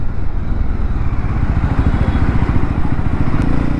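A Jawa motorcycle back on the road after repairs, its engine running in Nellore with a loud, close, steady low thumping putter that holds even throughout.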